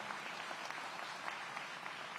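Continuous distant audience clapping rolls through a hall during a city public safety address in Aurora, an even, moderately faint wash of many hands.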